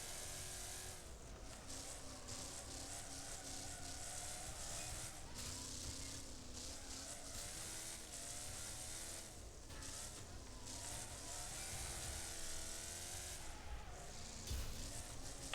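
A race car engine in the racing video game Wreckfest drones faintly and continuously, its pitch rising and falling with gear changes and throttle over several seconds, with no speech.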